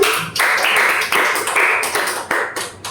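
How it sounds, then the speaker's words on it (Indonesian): Classmates clap together in a classroom for the group with the correct answer. The applause is dense and close, rising and falling in a few bursts over about three seconds. "Beri tepuk tangan teman-teman."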